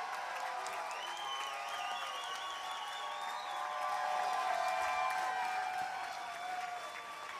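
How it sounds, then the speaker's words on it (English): A commencement crowd gives MPA graduates a long round of applause, with a steady, distant roar of many hands clapping under sustained music tones that swell slightly in the middle. "Let's have a huge round of applause for all the MPA graduates."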